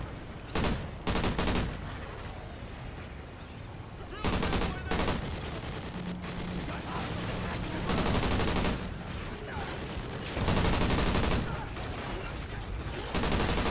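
Gunfire in Call of Duty Ghosts Extinction, with a scorpion enemy shooting at the player: bursts of rapid shots and sustained automatic fire in loud clusters, broken by short pauses.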